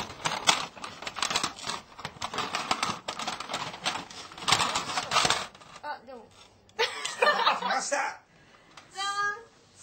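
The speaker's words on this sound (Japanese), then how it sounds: "この中からガサガサっと見ないようにして" Famicom game cartridges are rummaged through in a box, giving dense, loud plastic clattering and rattling for several seconds before it breaks off into Japanese talk.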